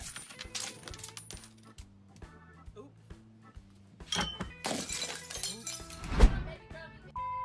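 Coins thrown onto a convenience store floor, with scattered metallic clinks and a louder rattling clatter toward the end amid store background noise and people talking.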